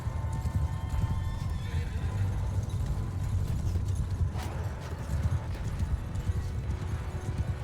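Cavalry horses in the battle game Mount & Blade II: Bannerlord gallop in a dense, continuous thunder of hooves, with neighs and whinnies rising through the rumble.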